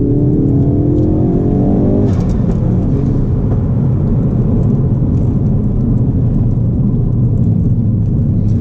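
A 2017 Ford Focus RS accelerates hard on a pothole-strewn road, its engine note climbing steadily before settling into a loud, continuous drone with heavy road and wind roar throughout.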